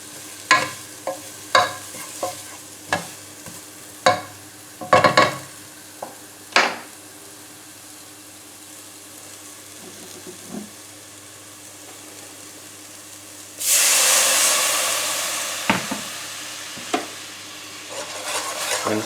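Flour and spring onions cook in a pan, stirred in a run of sharp, regular scrapes. Later a louder, steady sizzle swells up, with a few further stirring knocks over it.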